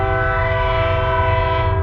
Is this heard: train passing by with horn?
yes